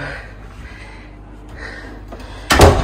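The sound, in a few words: closing a villa room door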